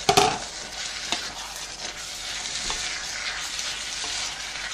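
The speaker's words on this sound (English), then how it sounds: "we're just going to take that pasta and stir it through" Pasta with chorizo and rocket being stirred through in a hot pan, a steady close sizzle and frying hiss with soft scraping of the spoon, a sharper clatter at the start, no voices.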